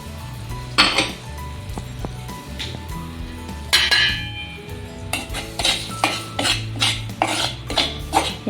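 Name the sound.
stirring wheat flour roasting in ghee in a pan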